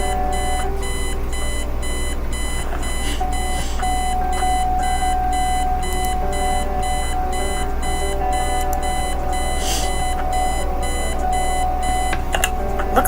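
An alarm clock rings in the video game Kathy Rain, a loud, continuous rapid beeping that repeats without pause with no talking.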